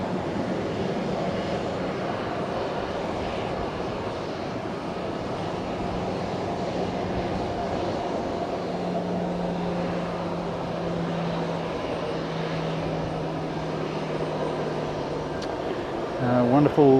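Airliners taxiing and waiting on the runway at Fukuoka Airport give a steady, continuous engine roar at a distance with a low droning hum, and a louder surge at the very end.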